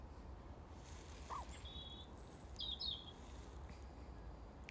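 Faint, thin bird chirps and short whistled calls sound intermittently over a steady low rumble of outdoor background noise.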